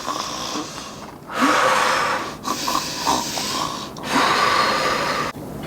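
A storyteller's voice imitates snoring in a children's read-aloud, giving several long, rasping snores in a slow rhythm, each separated by a brief pause, loud and close with no other talk.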